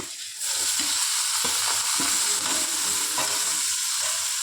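Broad beans and onions sizzle steadily in a hot pan during tempering, with a continuous bright frying hiss and occasional soft stirring scrapes, close and alone without talk.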